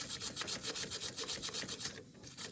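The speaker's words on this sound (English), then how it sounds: "So we can grab a brush and get this scrubbing." A brush scrubs corrosion from a car battery terminal in quick, even back-and-forth rasping strokes, about a dozen of them, loud and close, then a short pause and a few more strokes.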